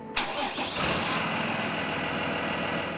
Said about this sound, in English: The roar of the bus engine